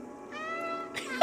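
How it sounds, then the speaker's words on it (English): In the video game Stray, a cat gives one clear, drawn-out meow, close and distinct, rising and then tapering off. A brief rustle and a sharper sound follow at the end. "Oh, press B to meow."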